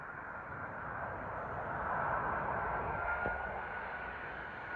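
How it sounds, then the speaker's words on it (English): A Singapore Airlines Airbus A380 lands at London Heathrow, its broad, steady jet-engine roar rumbling from a distance and swelling slightly midway, with no talk over it. "Coming in now to Singapore Airlines Airbus A380 from Singapore,"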